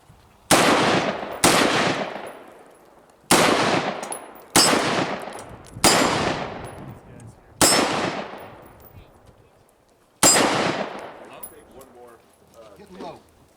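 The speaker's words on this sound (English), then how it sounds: "We'll see how average Joe AR fares against me and my scout rifle." Seven sharp scout rifle shots at close-range targets, loud and near, spaced in an irregular rhythm with a longer pause before the last, each shot ringing out in a decaying echo.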